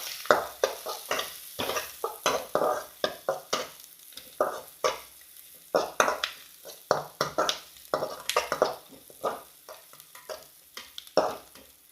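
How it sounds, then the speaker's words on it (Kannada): Onions fry in a pan for Mangalore-style chicken sukka, with a low sizzle under rhythmic, close scraping strokes of a spoon stirring them every half second or so, and no talking. "ಈರುಳ್ಳಿ ಚೆನ್ನಾಗಿ ಫ್ರೈ ಆಗಲಿ."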